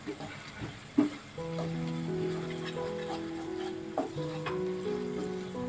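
Turmeric and coriander powder are stirred into a few spoons of hot oil in a pan, a soft sizzle with intermittent scraping and clinks of the spoon; a quiet tonal hum runs underneath and no one speaks.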